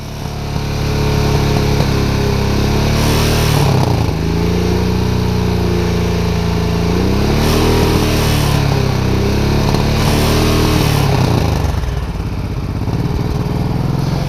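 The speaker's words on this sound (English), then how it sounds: "You hear all the sputtering? Pop, pop, pop, pop, pop, pop. That's a fueling problem, for sure." Honda Shadow motorcycle engine running rough with a fuel problem, sputtering and popping unevenly as the revs rise and fall, loud and close throughout with no talk.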